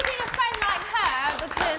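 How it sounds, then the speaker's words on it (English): Housemates in the Big Brother house clap briefly in a quick round of applause, partly buried under loud, overlapping talk. "that's got to be a round of applause"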